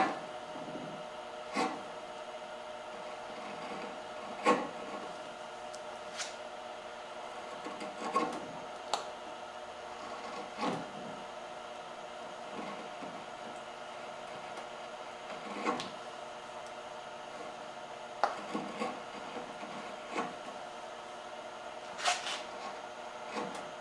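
A wood carving gouge scoops out wood in a quiet room. It makes a series of short, sharp scraping cuts at irregular intervals over a faint steady background.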